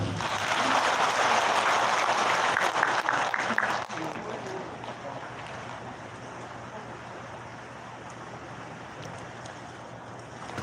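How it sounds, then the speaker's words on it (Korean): Audience applause at a senior employment program rally in a hall, a broad wash of clapping that is loud at first, then fades after a few seconds into quieter room noise and murmuring. "큰 박수 한번 쳐주생요"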